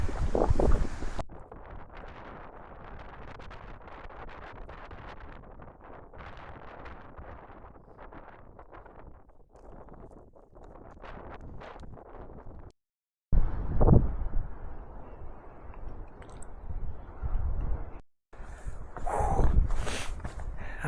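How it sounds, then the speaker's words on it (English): Strong wind buffets the microphone on a fell summit near Low Pike in the Fairfield hills, a loud continuous roar with gusts, brief sheltered dips and possible footsteps. "I'm just ducking down behind the wall because the wind behind there is absolutely insane"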